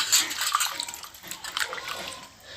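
Tomatoes being washed in water in a home kitchen while preparing sambar, with a brief, continuous splashing and sloshing close by and no talking.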